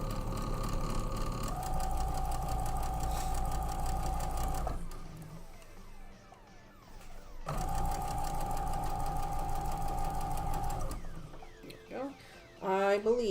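Sewing machine stitches in two long, fast, steady whirring runs separated by a pause, close and clear, followed by a softer clatter and a person talking.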